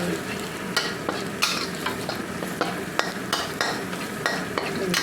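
Garlic is stir-fried in a hot pan: a constant, close sizzle of oil broken by regular scraping strokes of the spatula, with no talk.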